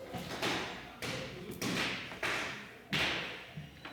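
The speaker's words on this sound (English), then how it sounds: "They're popping bubble wrap without me." Bubble wrap is popped in the background: about six fairly faint bursts at roughly half-second intervals, each snapping and then fading, heard at a slight distance.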